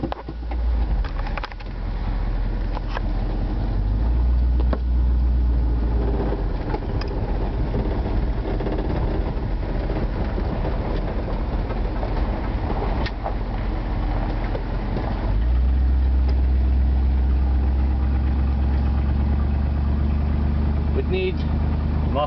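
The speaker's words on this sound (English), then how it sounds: "Muffler's taken off, resonator's put on for that hot rod sound" A 1964 Mercury Park Lane idles with a deep, steady rumble and throaty exhaust through a resonator with the muffler removed, while a person talks over it.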